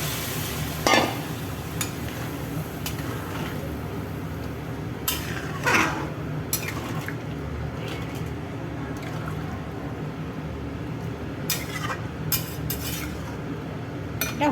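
Water poured into a pan while khichuri cooks, a steady low liquid wash with occasional utensil clinks, close and fairly quiet, no talking.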